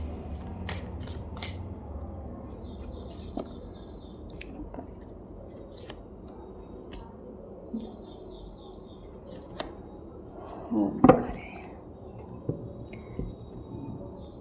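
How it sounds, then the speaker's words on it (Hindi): Oracle cards shuffle and are drawn in scattered soft flicks and riffles, with faint papery snaps and a louder rustling cluster near the end, quiet and close in a calm room. "तो मैं कुछ ऑरिकल्स कार्ड निकालती हूँ"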